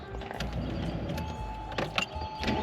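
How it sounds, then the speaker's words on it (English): An electric rear spoiler on a 2002 Porsche Boxster retracts with a steady motor whir over a low idling rumble, with a couple of brief clicks near the end and no talking. "But first I gotta put the ugly ass spoiler down."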